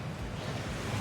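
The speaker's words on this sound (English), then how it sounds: "That waterfall washes away all enchantments." A roaring waterfall at Gringotts in Hogwarts Legacy, a continuous dense rush of falling water with heavy low rumble, steady and close with no pauses.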